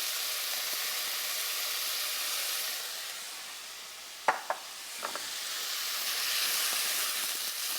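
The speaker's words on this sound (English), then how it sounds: "Let's saute onion, ginger, garlic together." Chopped onion sautés with ginger and garlic in a pan, giving a low, continuous sizzle and hiss with a few clinks of a stirring utensil partway through.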